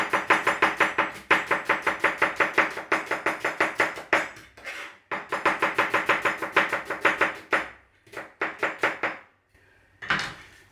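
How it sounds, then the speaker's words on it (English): A knife chops steadily through an onion on a chopping board, fast even strokes in long bursts with short pauses, close and crisp, ending with a few scattered taps. "You can turn the onion round that way and slice it, or you can slice it that way."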